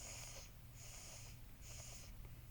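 A voice imitates congested, wheezing breathing: three faint, raspy breaths with whistling, snort-like tones, evenly spaced and quiet.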